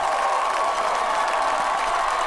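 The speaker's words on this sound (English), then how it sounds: "Greyhound fans on their feet, applauding the fight" Home crowd at a high school football homecoming game, East Central Hornets vs Boerne Greyhounds, applauding and cheering in the stands during the fourth quarter, a steady distant wash of clapping and crowd noise.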